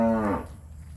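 A single cow moos once, close and clear, on a mixed farm with red and black cattle, the call fading after a moment into quiet outdoor background.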